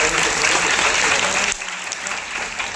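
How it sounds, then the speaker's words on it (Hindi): An audience at a motivational business seminar applauds loudly and steadily, with dense close clapping that drops off abruptly partway through and leaves a quieter tail. "ताली होनी चाहिए इनकी मम्मी के लिए।"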